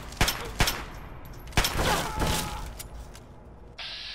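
Gunfire in Fallout 3 aimed at the player, with sharp separate shots early and more bursts around the middle before the firing fades into a quieter tail.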